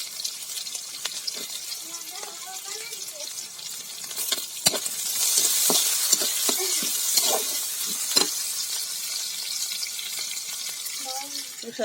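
Cumin seeds and panch phoron spices crackle in hot oil, a close, bright sizzle that swells midway and carries sharp pops, with someone speaking over it at the start and end.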